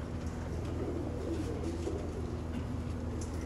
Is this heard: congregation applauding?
no